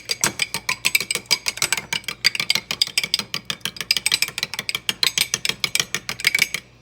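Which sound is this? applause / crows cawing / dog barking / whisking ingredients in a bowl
whisking ingredients in a bowl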